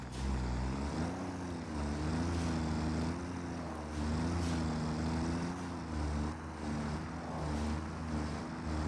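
A self-driving tractor in the video game Satisfactory gives a steady droning engine hum that throbs gently in a wavering pitch for the full stretch, loud and close, with no voices.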